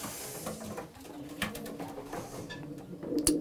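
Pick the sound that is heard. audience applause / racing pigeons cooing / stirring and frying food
racing pigeons cooing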